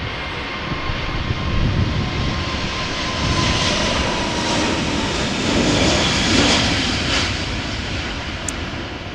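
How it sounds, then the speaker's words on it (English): An Emirates Airbus A380 in the new standard livery departs Amsterdam Schiphol for Dubai, its jet engines a steady, broad distant roar that swells slightly and then holds. "This is the daily flight back to Dubai, Emirates A380 in the standard livery"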